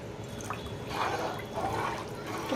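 Eight glasses of rice and fourteen glasses of water are stirred together in a large pot for egg biryani, giving a close, continuous sloshing and swirling of liquid with a few soft surges.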